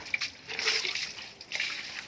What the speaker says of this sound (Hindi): वो गंदा पानी उधर जा रहा है ना, फिर उसके बदन में ही पड़ रहा है।